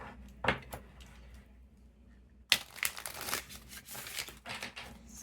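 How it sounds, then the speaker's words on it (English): Rider-Waite tarot deck being shuffled, with crisp close riffles and card slaps in short bursts, a quiet gap in the middle, then a longer run of rapid shuffling. "So I'm just going to use a Rider-Waite tarot deck. Let me shuffle it a few times."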